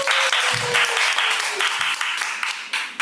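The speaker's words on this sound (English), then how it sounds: "Please give a round of applause to every speaker." Steady applause from an audience at a Toastmasters meeting for its speakers, a dense wash of many hands clapping that carries on without a break, close and moderately loud.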